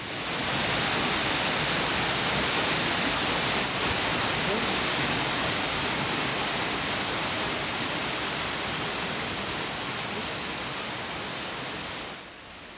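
A stream plunges 45 metres in a waterfall in the Corrèze countryside, a dense, steady roar of falling water that fills everything, heard close and constant before fading slightly at the end.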